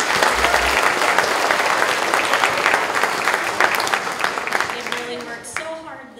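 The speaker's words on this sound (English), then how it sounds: "So give them a round of applause for being here." An audience at a spring school choir concert applauds the student singers, loud continuous clapping that gradually thins and fades, with voices and a musical tone emerging near the end.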